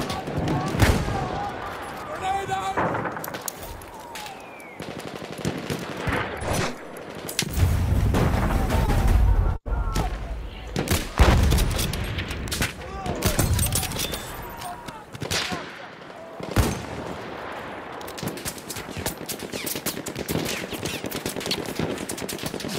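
Dense gunfire in the World War I shooter Battlefield 1, rapid machine-gun bursts and scattered shots with deep booms, loud and continuous, with someone talking over it in places.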